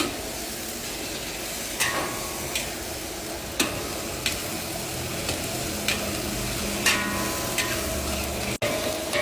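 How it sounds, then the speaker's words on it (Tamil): A 1.5 kg chicken sizzling in a hot pan while being stirred, steady frying hiss punctuated by regular scraping and clinking of a spoon. "கோழியை போட்டு நல்லா கிண்டுறோம்."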